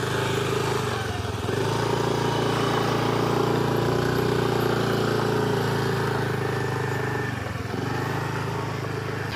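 A Honda Activa scooter engine runs steadily on a rough road, with a continuous loud drone and bumpy unevenness, nearby and alone with no talk.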